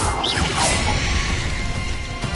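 A Bombarda explosion spell in Hogwarts Legacy hits with a crashing smash and a rushing whoosh, followed by a rumbling, debris-like roar that holds steady at moderate loudness before a final small thump, with no voices.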